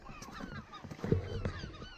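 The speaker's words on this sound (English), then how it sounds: "They nest on these islands, and that's where all the birds come from" Seabirds calling on a remote island off Nova Scotia, several honking goose-like calls at moderate distance over faint wind and background noise.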